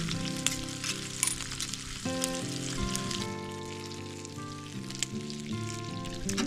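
Steak sizzles and crackles over a winter campfire at night, a steady close frying hiss with scattered pops and faint tonal background sounds throughout.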